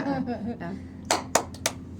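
Teacher's classroom clapping chant called tepuk matik, in an Indonesian junior high school: after a stretch of talking come four crisp, close hand claps in a quick rhythmic pattern.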